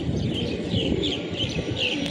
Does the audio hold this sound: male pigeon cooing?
yes